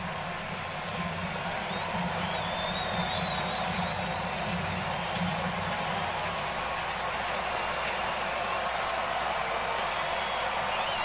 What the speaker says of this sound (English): That big crowd is getting loud.